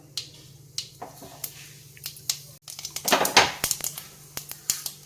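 Mustard seeds and urad dal spluttering in hot coconut oil for an idli sambar tempering: irregular sharp, close pops with a denser crackling burst midway, and no voices.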